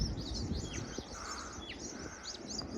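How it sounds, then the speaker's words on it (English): Many small birds chirp and tweet near a coastal wind farm on a walking trail, their quick repeated high calls scattered and fairly distant over a low background hum. "A lot of birds."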